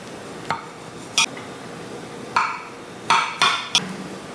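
A knife cutting into a baked blueberry cake with brown sugar sauce, tapping against the dish below: a few sharp, separate clicks and scrapes spread over several seconds, close and quiet against a faint background hiss, with no voices.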